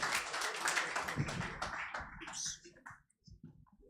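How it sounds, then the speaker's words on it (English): Conference audience at the BusinessDay Energy Conference clapping for a panel, a loud burst of applause that thins out into a few scattered claps near the end. "Let's give them a round of applause once again."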